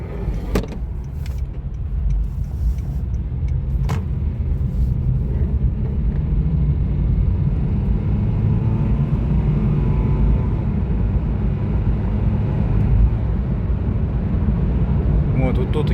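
A Honda Fit Hybrid GP5 hatchback drives fast over a rough road with potholes: a steady close road rumble and suspension thumps, with a few sharp knocks early on and someone talking over it.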